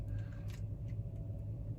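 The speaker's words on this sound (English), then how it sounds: "I'm gonna get my truck running again, get the air conditioning going" A truck engine idles with a low steady rumble and hum, close and continuous, with a few faint light clicks over it.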